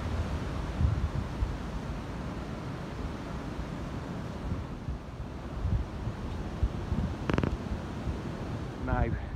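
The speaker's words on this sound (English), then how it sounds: "Very windy today." Steady wind roars and buffets across the microphone outdoors beside the Shrewsbury Newport Canal, a constant rushing noise with a few brief thumps near the end.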